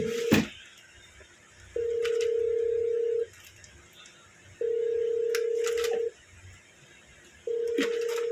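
A telephone rings in repeated long electronic tones, three steady buzzing rings separated by pauses, with faint clicks and background noise between.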